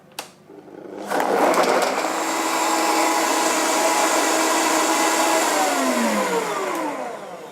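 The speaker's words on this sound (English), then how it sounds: "lid plug in place, and this time we'll get blending." A high-speed blender whirs up to full speed on carrot soup, a loud close motor drone that holds steady for several seconds and then winds down, with no talking.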